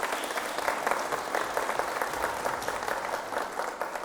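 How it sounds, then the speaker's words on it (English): A concert audience claps steadily after a jazz quartet performance, a dense, even patter of many hands applauding throughout without pause. "Could we give them a round of applause?"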